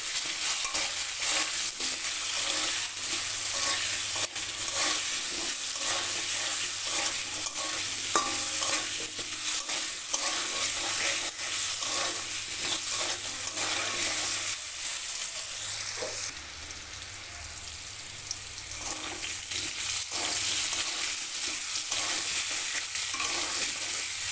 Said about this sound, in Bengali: আলুর মধ্যে সামান্য একটু নুন ও হলুদ করে দিয়ে আলুটা ভেজে নেব